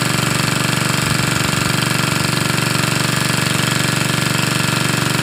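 Steady, loud mechanical pounding from a heavy engine-driven well drilling rig boring into hardening ground in a rice field, a continuous rapid rhythmic knocking that never pauses.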